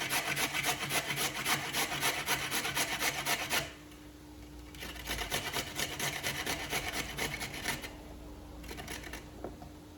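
Carrot rasped against the coarse large holes of a box grater, a steady scraping rhythm of close strokes, pausing briefly and then resuming in bursts of rapid back-and-forth grating.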